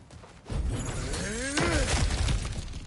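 Objects smashed apart in God of War Ragnarok, a loud crash of breaking and shattering debris with scattered cracking that trails off, no voices.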